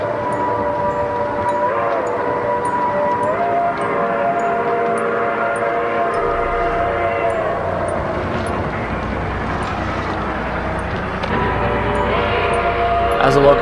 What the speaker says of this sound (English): they didn't hear a train whistle echoing in the distance, signifying that a train was fast approaching them